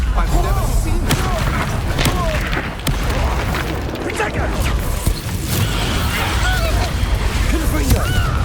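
Repeated Confringo blast spells go off during a Hogwarts Legacy fight, sharp booming bursts with crackling impacts and whooshing effects, mixed with shouted spell voices and combat noise throughout.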